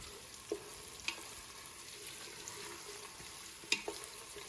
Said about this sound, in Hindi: हमें यहाँ पर अनियन को तब तक पकाना है जब तक अनियन जो है लाइट ब्राउन नहीं हो